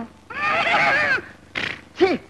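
Someone imitates a horse's whinny in a Telugu film scene: a long, loud, quavering neigh, followed by two short, sharp snorting bursts.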